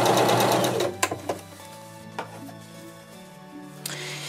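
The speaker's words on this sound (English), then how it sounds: "What we're asking the machine to do is to sew on no width at all." A sewing machine stitches at zero stitch width: a fast, close whirring burst at the start, then a few clicks and knocks as it slows and stops, with faint mechanical hum in between.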